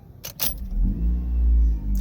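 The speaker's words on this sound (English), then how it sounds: "Car just starts right up without any cranking." A Honda CR-Z hybrid engine fires up instantly with no cranking: a couple of sharp clicks, then a low, close idle rumble settling in steadily.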